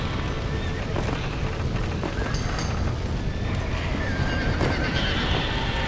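Horses neigh and gallop in the Western video game Red Dead Redemption, the whinnies and hoofbeats sitting in a dense, continuous mix of game sound with voices in the background.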